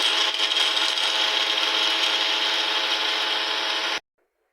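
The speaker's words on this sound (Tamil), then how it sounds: "இப்போது பார்த்தீங்கன்னா மிக்சியில் நம்ம பொடிக்கிறோம்." An electric mixer grinder whirs loudly as it pulverizes spices in a small jar for mutton semi-gravy, a harsh, steady buzzing grind running for about four seconds before cutting off abruptly into silence.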